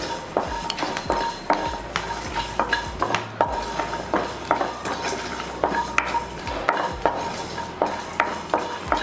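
Coriander seeds, cumin, cloves, cardamom, cinnamon, poppy seeds and garlic dry roasting in a pan, stirred steadily so that repeated scraping and clinking strokes come close together, with a faint dry rustle underneath and no talk.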